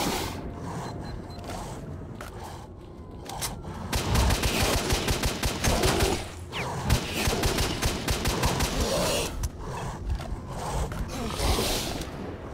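Rapid gunfire rattles on and off while fighting bandits in S.T.A.L.K.E.R., with dense automatic bursts and scattered single shots over several seconds and background ambience between volleys.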